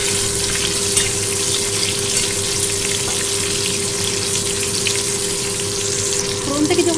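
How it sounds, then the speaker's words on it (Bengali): Black cumin seeds and green chillies fry in hot oil, making a loud, steady, close sizzle that runs unbroken throughout, with faint stirring near the end. "ওই একই তেলে দিয়ে দেবো সামান্য কালো জিরে আর কয়েকটা কাঁচা লঙ্কা"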